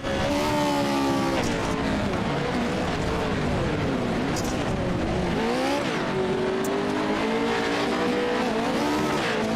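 Pro 4 off-road racing trucks roar past on a dirt track at a season finale at Wild West Motorsports Park, engines loud and continuous with revving and shifting pitch throughout, tires skidding at moments.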